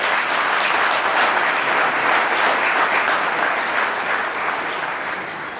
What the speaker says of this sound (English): I'll ask you to give him a round of applause